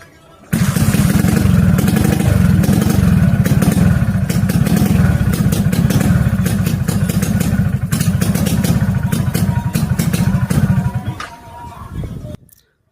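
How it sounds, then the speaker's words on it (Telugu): A modified Honda CBZ Xtream motorcycle engine fires up and roars loudly and close for about ten seconds with a rough, uneven beat, then dies away with a brief sputter before cutting out. "స్టార్ట్ అవుతుంది కానీ కంటిన్యూగా రన్ అవ్వట్లేదు"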